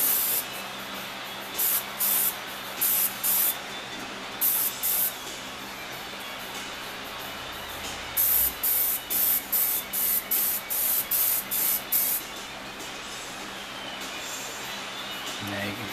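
Short hissing bursts of a spray gun laying down a wet coat of paint, coming in separate spurts with brief pauses between them, in two clusters with a quieter gap in the middle.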